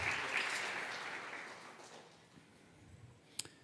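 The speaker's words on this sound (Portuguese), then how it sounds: "Você pode aplaudir Jesus, se coloque de pé." A standing church congregation applauds Jesus during a service. The quiet, dense clapping is loudest at first, then thins and fades over a couple of seconds, and a sharp click sounds near the end.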